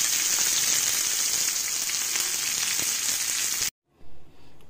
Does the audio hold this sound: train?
no